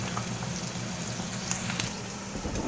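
Spices such as black pepper and chili lightly roasting in a pan for aloo gajar sabzi, a steady low sizzle with faint crackles and pops running evenly throughout.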